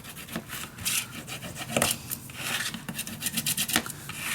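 Paper is burnished down onto a handmade winter scrapbook album, giving repeated dry rubbing and rasping strokes at close range in an uneven rhythm.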